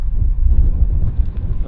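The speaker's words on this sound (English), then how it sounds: "it's super windy here" Strong wind in Amarillo, Texas buffets the microphone, producing a constant low rumbling roar with irregular gusty thumps throughout.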